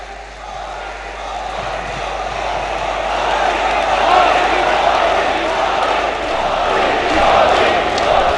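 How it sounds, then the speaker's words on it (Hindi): Loud applause and crowd noise greeting the Prime Minister at a BJP rally in Bhopal, a steady dense roar of clapping swelling over several seconds, with a voice over a loudspeaker. "मैं चाहता हूं जोरदार तालियों से माननीय प्रधानमंत्री जी का हम अभिनंदन करें"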